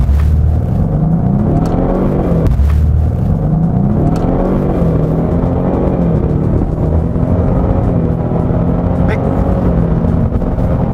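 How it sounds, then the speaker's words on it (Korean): A Ford Mustang 2.3 revs and then accelerates hard in a 0-100 km/h run, heard from inside the car as a loud, dense engine roar with rising and falling pitch through gear changes, steady and close. "제로백 테스트를 한번 해보도록 하겠습니다. 제로백 RPM 좀 띄워놓고"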